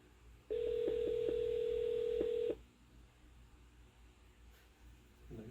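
A telephone dial tone on an outgoing call to a fan, a steady, loud, continuous tone lasting about two seconds and broken by brief dialing clicks, then cutting off to quiet line noise.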